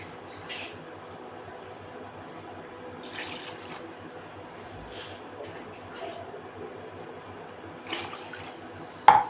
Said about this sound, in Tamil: லைட்டாக 2 நிமிஷம் வதங்கினோடனே தண்ணி நான் ஊற்றிக்கிறேன்.